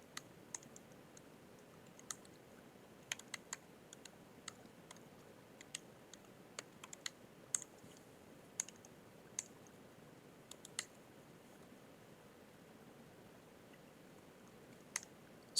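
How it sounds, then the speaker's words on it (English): Faint keyboard typing, scattered irregular key clicks over a quiet background hum, with no talking. "excuse my typing"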